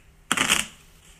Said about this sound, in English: I'm going to show you how I shuffle cards